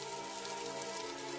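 Steady rain falling during a spell of continuous wet weather, a soft even hiss of drops on surfaces heard alone and fairly faint throughout.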